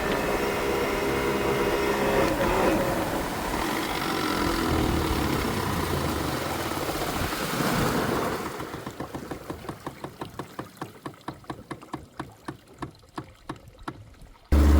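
An outboard boat engine roars loudly at about 30 km/h, then is cut abruptly, leaving sputtering knocks and water noise as the boat slows.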